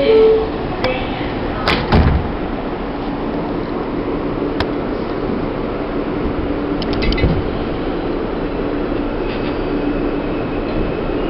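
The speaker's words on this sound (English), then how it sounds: "Stand clear of the closing doors, please." Inside a rumbling New York E train subway car, a door thuds shut near the start, then the train hums and rattles steadily with faint clanks.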